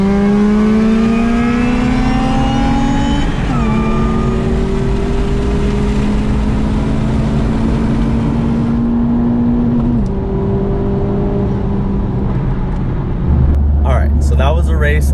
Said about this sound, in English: So that was a race against the 8th gen Civic Si supercharged.